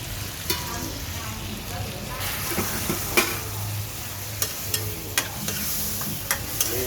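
Pork sausage and holy basil stir-fried in a hot pan, a steady sizzle with repeated sharp scrapes and clacks of a spatula stirring, close and loud.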